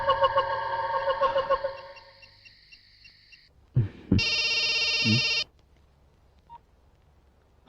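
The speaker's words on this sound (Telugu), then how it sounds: "ఏంటి ఈ టైంలో ఫోన్ చేసావు?" A telephone ringtone in a Telugu film scene plays as repeated pulsing electronic tones that fade out, followed after a pause by a few clicks and a louder sustained ring burst that cuts off.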